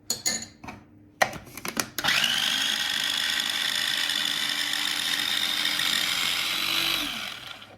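A chopper blender grinds green chutney for vada pav, first with a few short bumps and pulses, then a steady high-pitched whirring run for about six seconds before winding down, close and loud.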